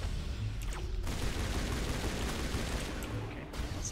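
Rocket fire and explosions during combat in the video game Mass Effect Legendary Edition, heard as a loud, dense barrage of blasts that runs without a break the whole time.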